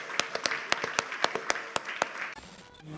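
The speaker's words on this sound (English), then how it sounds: "Un applause pour Alessandro." A small audience at a design talk event in Paris claps: sharp, distinct handclaps in an uneven rhythm for about two seconds, then the clapping stops and a quieter room rustle remains.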